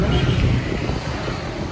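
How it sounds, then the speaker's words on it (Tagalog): Steady wind buffeting the microphone, a broad low rumble with faint background noise throughout. "Buti may hangin, ano?"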